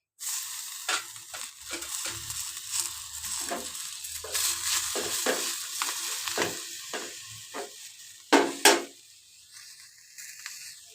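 Leafy greens frying in hot oil for chutney while being stirred, a close busy sizzle broken by repeated scraping strokes and two louder knocks near the end.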